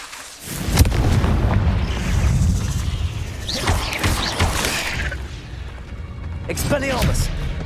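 Confringo blasting spell in Hogwarts Legacy, heard as a sharp blast followed by rumbling booms and whooshing magical bursts in a busy fight, fairly loud and close.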